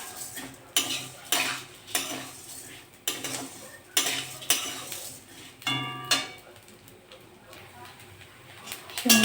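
Semai vermicelli fries in hot ghee, giving a steady sizzle under repeated scraping and clinking of a utensil stirring against the pan, with a voice speaking over it.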